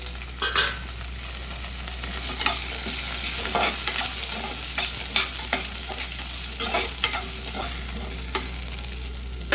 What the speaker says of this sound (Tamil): ஒரு 10 பூண்டு பல்லு, ஒரு 15 சின்ன வெங்காயம், ஒரு கொத்து கருவேப்பிலை இது இதோட சேர்த்து நல்லா வதக்கிக்கலாம்